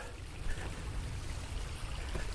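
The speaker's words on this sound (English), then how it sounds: "You can hear the water." Water flowing close by outdoors, a steady, full rushing and trickling wash that holds an even level throughout, with nobody speaking.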